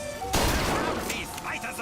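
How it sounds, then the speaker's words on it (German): A sharp air rifle shot cracks out at a fairground shooting gallery in BioShock Infinite, one strong burst with a ringing tail, while a voice talks underneath. "Also wenn das ein Luftgewehr ist, will ich ja wissen, wie die richtigen Dinger abgehen."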